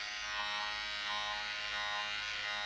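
An electric razor is used in a film scene with Niels Arestrup shaving, watched by Chantal Akerman; it gives a continuous, even, close buzzing drone for the whole stretch, with no talking.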